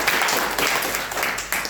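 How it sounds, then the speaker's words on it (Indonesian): A church congregation at a Sunday worship service claps and applauds together in a steady, fairly loud wash of sound that lasts a couple of seconds, with no voice speaking over it. "Beri tepuk tangan dulu buat Tuhan Yesus."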